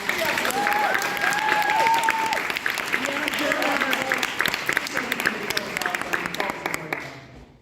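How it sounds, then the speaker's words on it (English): A concert audience at a Mu Alpha 20th anniversary show breaks into steady, dense applause, with some whoops and cheers riding on top and a voice briefly audible, before the clapping thins and fades out near the end. "Can we give these guys another round of applause?"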